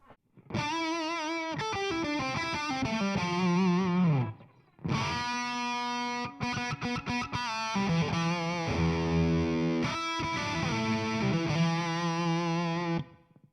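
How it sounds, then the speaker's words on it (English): An electric guitar through a Carvin V3M amplifier's reverb plays single notes and strummed chords with a spacious reverb tail, loud and close, with a brief pause midway. "Turn off everything else. Just hear the reverb."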